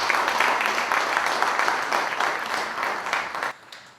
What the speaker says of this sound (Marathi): बिभास आमोणकर यांचे टाळ्या वाजवून जोरदार स्वागत करू